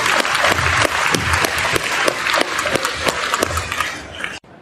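Audience applause for panelists after a talk, dense clapping from a sizable crowd that stays full and even for several seconds, then cuts off sharply at the end.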